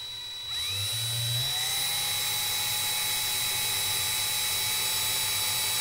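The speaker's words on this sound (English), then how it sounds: "I'm going to go ahead and just kick this drill into action" An electric drill used for building vape coils spins up and then runs with a steady, loud, continuous whine close by, with no talking over it.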